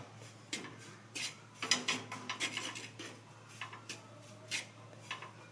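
A spoon scrapes and rubs steadily against a pan as ragi (nachni) flour is stirred and roasted, producing soft repeated scraping strokes up close, with no voices.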